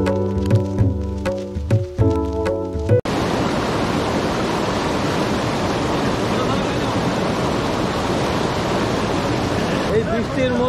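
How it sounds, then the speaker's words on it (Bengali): Heavy monsoon rain over the rushing current of the Jaldhaka River in Dooars, a dense roaring wash of water that starts abruptly after a few seconds of other tones and continues loud and unbroken. "প্রচুর বৃষ্টি হচ্ছে, প্রচুর বৃষ্টি। তার মধ্যে জলঢাকা নদীর স্রোত দেখো কিরকম"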